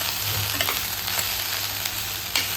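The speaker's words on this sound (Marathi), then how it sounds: "भेंडी छान बारीक कट करून घेतली आणि लसूण फोडणी टाकलेला आहे" Finely chopped okra sautéing in a garlic tempering with turmeric, producing a dense, continuous close sizzle with light stirring scrapes.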